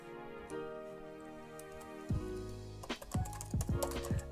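Typing a git clone command on a computer keyboard in a terminal: quiet, close keystrokes, sparse at first, then a quick cluster of clicks near the end.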